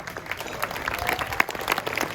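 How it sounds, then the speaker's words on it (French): An audience at a French cuisine awards ceremony applauds restaurant staff, with dense, continuous clapping from many hands filling the room throughout. "qu'on peut applaudir,"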